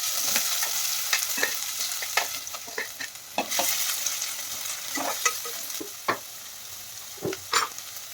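Onion frying in about three ladles of oil with cumin seeds and salt for a chicken dish, a steady close sizzle broken by scraping stirs of a spoon across the pan, no voices.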